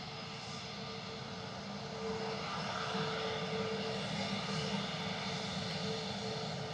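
An Airbus A321neo airliner of the UK government rolls past at London Stansted Airport, its engines giving a steady, moderately distant roar and whine that swells slightly after a couple of seconds.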